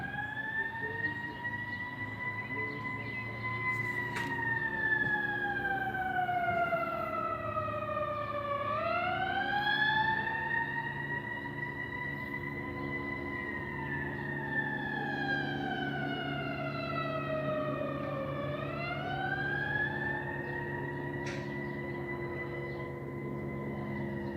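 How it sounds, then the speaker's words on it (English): A wailing emergency siren rises and falls in slow sweeping cycles, heard outdoors at moderate distance over a low background hum. "We don't usually get sirens out here."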